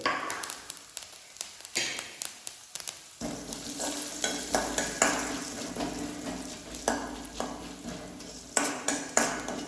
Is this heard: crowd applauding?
no